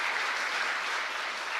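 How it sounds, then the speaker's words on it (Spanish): Steady applause fills a chapel during a Catholic Mass in Ñemby, Paraguay, as a congregation claps for a woman's 89th birthday; a dense, even patter holds close and loud throughout the short stretch with no voices over it. "un fuerte aplauso para la señora Blanca"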